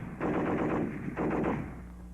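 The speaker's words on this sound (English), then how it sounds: "A powerful weapon in the hands of a well-trained man. The BAR, 80 shots a minute." Bursts of rapid automatic fire from a Browning Automatic Rifle, two loud rattling volleys separated by a short pause, with echoing noise between shots.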